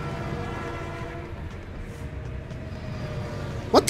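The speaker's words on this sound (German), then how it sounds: "Und jetzt kommt ein Zug." A train rumbles past in a video game, a steady mechanical drone with a faint horn-like tone, ending in two sharp bursts of noise near the end.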